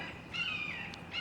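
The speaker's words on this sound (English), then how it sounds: "got all kinds of birds flying over" Crows and other birds call faintly in the distance as they fly over outdoors, with short harsh caws rising above a steady background hiss.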